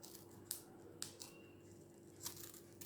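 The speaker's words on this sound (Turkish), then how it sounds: "Ben böyle bir hobi bıçağıyla keseceğim." Paper strips are cut with a hobby knife, giving several short, sharp, faint snips spaced roughly half a second apart in a quiet room, with no talking.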